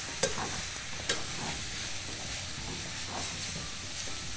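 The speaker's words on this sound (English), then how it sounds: "Sausage is sizzling away." Sausage sizzles in a frying pan while being prepared for stuffing, a steady close crackling hiss with a few sharp stirring clicks and no talking.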